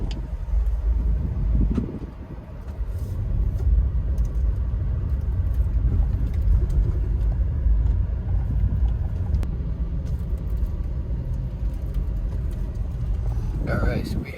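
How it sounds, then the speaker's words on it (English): Car driving on a road in Limbang, Malaysia, a steady low engine and tyre rumble from inside the cabin that holds unbroken throughout, with a brief bump near the start and a clatter at the end. "I'm going to let her drive for a bit, because I get bored of driving."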